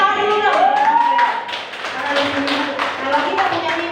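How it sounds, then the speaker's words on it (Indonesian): An indoor audience claps for about four seconds during a community sharing session, a spread of individual taps that fades after the first second and a half. A voice talks over the clapping. "Tepuk tangan dulu dong."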